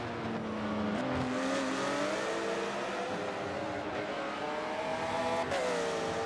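A Porsche 911 race car in a 2015 World Endurance Championship race roars loud and close, its engine pitch climbing and dropping through gear changes in a steady, unbroken drone with no voices.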